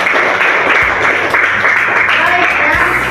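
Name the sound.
applause for group 3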